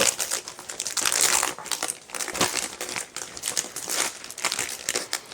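Thermal printer paper packaging being handled, crinkled and rustled in continuous close crackling bursts with no talk.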